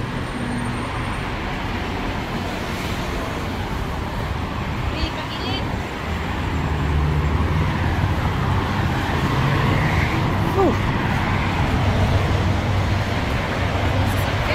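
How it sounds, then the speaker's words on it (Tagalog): Rush-hour road traffic rumbles as a steady low drone of engines and passing vehicles, growing slightly louder midway, with people talking close by over the continuous noise. "Traffic."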